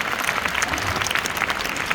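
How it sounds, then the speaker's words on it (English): Steady audience applause for a teacher at a talk by an Indian cricket star, a dense continuous patter of many hands clapping at an even, moderate level with no voices over it. "give her a round of applause"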